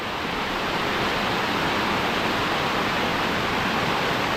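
Gabur Gabur Falls in Peñablanca, Cagayan pours with a powerful, continuous roar of rushing water, loud and close, a steady broadband wash with no voices.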